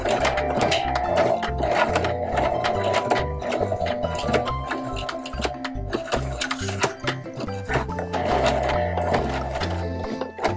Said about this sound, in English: I'm gonna try to sew it with the sewing machine first.